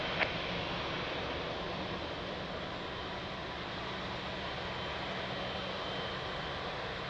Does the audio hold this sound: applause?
no